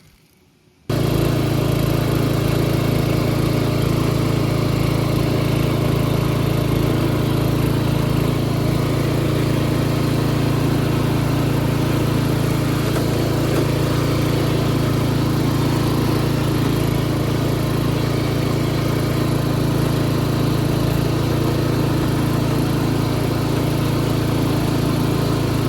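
A ride-on lawn mower engine, mid-restoration, starts after a brief quiet moment and then runs steadily at a loud, even idle close by for the remaining time, with no talking.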